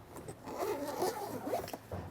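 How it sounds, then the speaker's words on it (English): A zipper runs closed along the soft zippered pouch of a NOCO GeniusPro smart battery charger, a close, continuous rasp lasting about two seconds with slight pauses. "zips back up."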